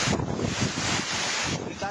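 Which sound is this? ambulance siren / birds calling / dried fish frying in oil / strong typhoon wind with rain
strong typhoon wind with rain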